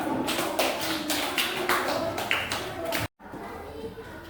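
Classroom applause for a group 2 representative: steady clapping from many hands for about three seconds, then cut off sharply into quieter room noise.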